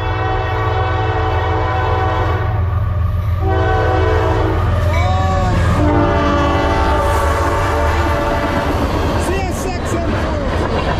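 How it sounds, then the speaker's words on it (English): Loud, sustained CSX freight train horn blasting continuously with strong harmonic tones, shifting pitch midway, over the heavy rumble of a passing freight train at a track-side crossing. "give me a horn show. Lay on it."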